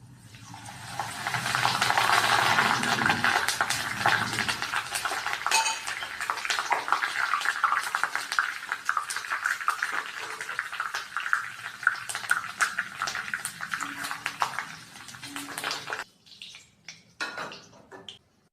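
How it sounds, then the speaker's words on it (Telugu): Curry leaves dropped into hot oil give off a loud, steady crackling splutter that fills most of the clip, with metallic pan clatter throughout. It thins to a few scattered pops near the end. "ఇప్పుడు కరివేపాకు కూడా వేస్తానండి, కొంచెం మీద చిటపడబడుతుందని అవతలకు దూరంగా పెట్టాను"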